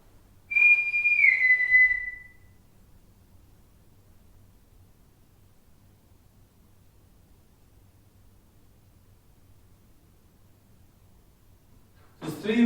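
One short whistled tone sweeping downward rises near the start, then quiet room hiss follows until a brief burst of other sound at the very end.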